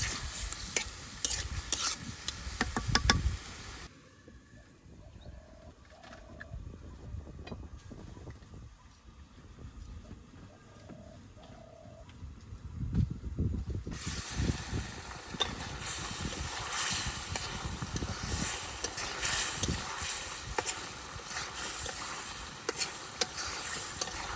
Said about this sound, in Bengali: তেল মাছটা আমি খুব ভালোভাবে কষে নিচ্ছি